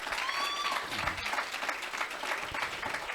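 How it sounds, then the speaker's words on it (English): Steady applause from an audience at a chat event, filling the whole stretch with dense clapping and a brief whistle early on. "I think that deserves a round of applause."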